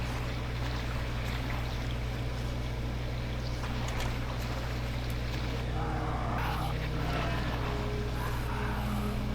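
Lawnmower engine in the video game MyHouse.wad, a steady low droning motor running continuously and fairly loud throughout, with faint higher sounds joining in the second half.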